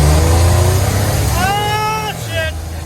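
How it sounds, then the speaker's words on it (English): A turbocharged 1951 rat rod car's engine revs hard for a burnout, a heavy low rumble with a rising whine midway, loud and close, with voices over it. "We're gonna do a big old burnout."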